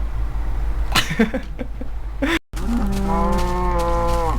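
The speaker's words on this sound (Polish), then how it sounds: "Krowy, shut up." Cows in the Minecraft video game moo loudly and close, several drawn-out calls in quick succession, with one long, sustained moo rounding things off.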